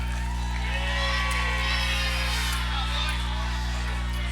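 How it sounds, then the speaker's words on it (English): Crowd at a cold night high school football game, Valley versus Tuscarora, giving a sustained wash of applause and cheering with scattered shouts, heard from a distance under a low steady hum. "how about a warm round of applause?"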